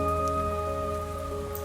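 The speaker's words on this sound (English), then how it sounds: "pouring rain outside" Pouring rain outside a flat, a steady, even hiss of falling rain with no breaks, close and moderately loud, with a faint sustained tone running underneath and no talking.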